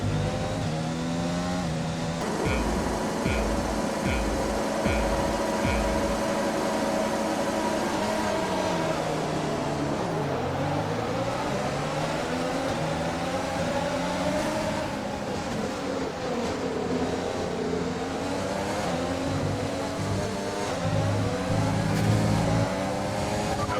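An F1 car engine in the F1 2020 racing game revs up and down through the gears, a steady, continuous drone with rising and falling pitch sweeps.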